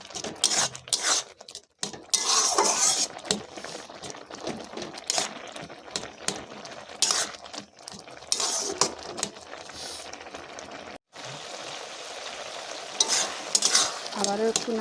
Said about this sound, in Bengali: আবারও একটু নাড়াচাড়া করে নেব